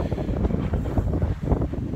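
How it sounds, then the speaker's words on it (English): Gusty wind buffets the microphone in a loud, uneven rumble with no voices. "We have a really good windy day, as you can see."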